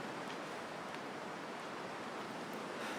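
Steady wind blowing across a snowy wilderness in The Long Dark, a continuous broadband rush that stays loud and even for the whole stretch, with no voices over it.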